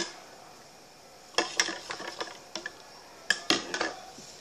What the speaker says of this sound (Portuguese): Vou lavar o copo sobre esse leite.